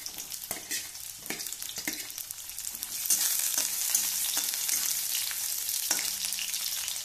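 Onions and capsicum fry and sizzle in a pan for white sauce pasta, a steady bright hiss that grows louder midway, broken by occasional stirring scrapes, with no talk.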